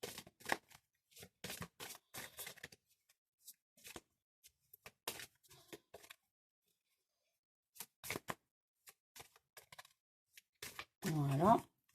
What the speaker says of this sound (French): Donc, je brasse les cartes.